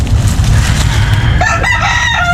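Free-range chickens cluck close by in a yard, with a rising crow-like call near the end over a low rumbling background.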